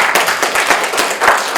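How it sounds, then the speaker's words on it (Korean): An audience at a youth leadership forum lecture applauds, giving a brief, dense patter of many hands clapping at once. It sounds close and fairly loud, with no voices on top. "박수 필요합니다."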